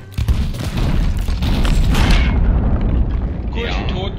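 A gunpowder barrel is shot and explodes in Sea of Thieves, setting off a deep, heavy boom that rolls into a long, loud rumble, with talk over it.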